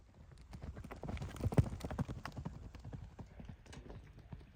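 A horse walks at an easy pace on a busy horse farm, its hooves clip-clopping in a steady, close rhythm, with a faint voice briefly in the background.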